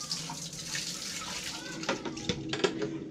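Water splashes and trickles steadily from a bucket being poured into a pour-flush toilet in a latrine room, fairly faint, with a few sharper splashes near the end.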